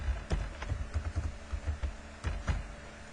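Keys clatter on a computer keyboard in a short run of irregular taps, close and clear, with small gaps between bursts of keystrokes.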